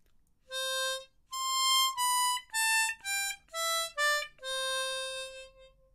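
A C diatonic harmonica plays a slow melodic phrase of a ballad, a string of sustained, clearly separated notes at moderate volume, close and solo, with no voices.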